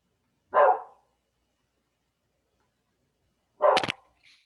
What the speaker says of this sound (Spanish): nos acompañaba también los ladridos de unos perritos